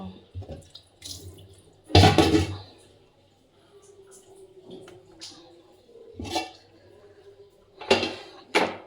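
Rice rinsed under a running tap at home comes in short separate gushes and splashes with quiet gaps between them, close by.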